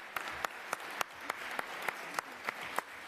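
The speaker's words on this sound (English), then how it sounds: "You could clap for that." A small audience at a New York City Council subcommittee hearing claps sparsely, a thin run of separate, distinct hand claps spread evenly over a few seconds, fairly quiet with no talking.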